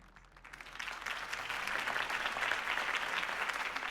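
A video game crowd in Batman: The Telltale Series claps and cheers steadily, building from quieter applause into a sustained, dense roar of clapping with no one speaking.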